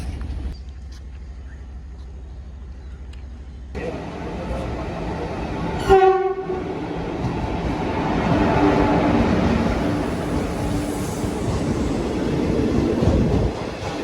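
A Kozhikode–Palakkad train rumbles along the rails with a steady roar, a brief horn blast cutting in partway through, the noise building as it moves.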